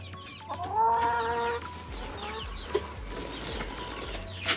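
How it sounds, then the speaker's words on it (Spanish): Hens cluck and squawk nearby among small chicks, one drawn-out call standing out, with scattered softer clucks and light background noise. "miren, estas gallinas pegan a los pollitos pequeños"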